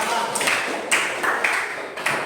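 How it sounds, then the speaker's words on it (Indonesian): Students in a classroom clap for a classmate, a short burst of brisk, fairly close hand claps in uneven rhythm, repeating across about two seconds. "Tepuk tangan untuk Andre."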